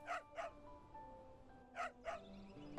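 A dog in the Trials of Mana video game barks four times in two quick pairs, the first pair at the start and the second near the end, over soft, steady background music.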